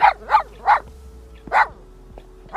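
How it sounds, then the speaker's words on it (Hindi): A dog barks in a quick run of three, then two more after short pauses, close and fairly loud, with no one talking over it. "ये तुम्हें देखकर भौंक रहा है।"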